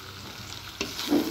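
Chicken with mung dal, chopped tomato and coriander is stirred in a hot pan, a soft sizzle with a couple of scraping stirs in quick succession, close and quiet.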